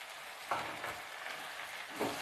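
Finely chopped tomatoes sauté in a hot pan for spicy kaara chutney, giving a steady broadband sizzle with two louder stirring scrapes near the start and end.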